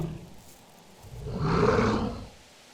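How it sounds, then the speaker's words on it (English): A wolf sound effect from an audio drama: one deep, growling roar swells up out of a quiet background, peaks for about a second, then fades away with no voices. "It was a wolf. That's what I had heard."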